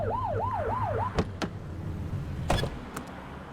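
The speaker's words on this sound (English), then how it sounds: "Get behind them and blip the siren to make them pull over." Police car siren blip from the video game The Precinct, a short warbling wail cycling several times before cutting off, followed by a few sharp clicks and thumps against steady engine and street ambience.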